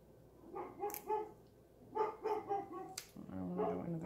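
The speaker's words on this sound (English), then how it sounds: "And there goes my dog again." A dog barks in several short bursts indoors, loud and close, mixed in with a person talking.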